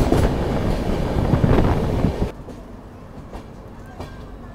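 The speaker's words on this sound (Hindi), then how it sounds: "उसी रेल लाइन से ट्रेन भी आ रही है।" A train runs along a railway line right beside trackside houses on the Delhi–Jaipur route near Alwar, India, a loud rushing clatter that cuts off abruptly partway through and leaves quieter rumbling.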